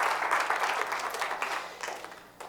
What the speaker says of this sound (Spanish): Gloria a Dios, un aplauso al Señor.